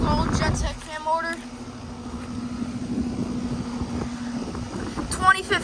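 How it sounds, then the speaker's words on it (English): A 2015 four-ton Carrier Comfort outdoor air conditioner unit with a slow fan runs with a steady low hum beneath people talking nearby. "this Carrier Comfort, also running."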